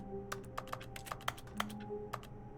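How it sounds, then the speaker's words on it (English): Sharp, irregular clicks sound up close, like presses on a computer keyboard during a video game, each one brief and distinct against a quiet, faintly humming background. "It's just clicking in general"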